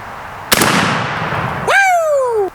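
A single loud shotgun blast at a target during turkey hunting practice, a sharp crack with a decaying boom, followed by a bright rising whoop-like tone.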